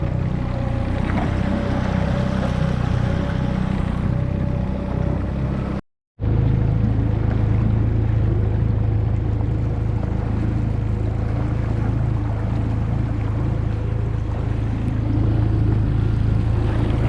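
Steady low drone of a boat outboard motor with power trim idling along at low speed on the Weeki Wachee River, Florida, continuous and close, with a brief dropout partway through.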